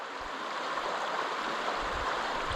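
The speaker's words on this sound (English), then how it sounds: "So I'm pouring this in with my water," River water is poured into a bottle beside a kayak in Australia, producing a steady, close splashing rush that continues without a break throughout.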